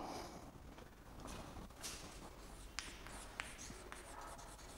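Pen or chalk scratches out a maths problem on integrals, faint and close, with irregular strokes and a few sharp taps, and no voice.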